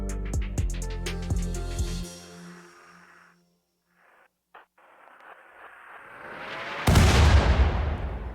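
Artillery shells in the video game RimWorld: rhythmic thumping pulses fade into near silence, then a rising rushing whoosh builds into one loud, sustained explosive blast at the end.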